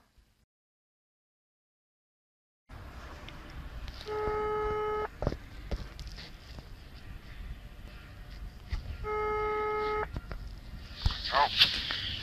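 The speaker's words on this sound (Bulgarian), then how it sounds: "Предизвикаха ме да звънна на рандом номер" Phone call in progress: dialing beeps, then a ringback tone repeating in two bursts with a pause between, moderately loud against background noise.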